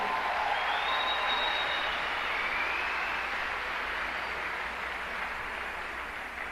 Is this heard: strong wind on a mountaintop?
no